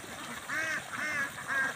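Ducks at their feeding place giving a few nasal quacks in quick succession, moderately close over a quiet background, with no talking.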